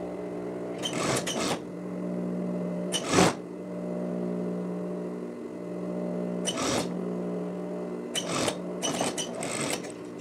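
A sewing machine stitches a cuff onto the sleeve of a women's plaid shirt, its steady mechanical hum running in several bursts separated by short pauses.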